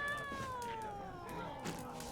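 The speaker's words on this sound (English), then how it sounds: "A cat!" Cat in The Witcher 3 gives a drawn-out meow that falls in pitch, close and fairly quiet, with a soft second cry near the end.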